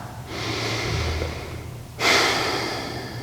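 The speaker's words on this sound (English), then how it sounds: "Take one more breath." Slow breathing during a yoga hip stretch, a long airy inhale through the nose followed by a stronger, louder exhale that fades out, close and alone with no speech.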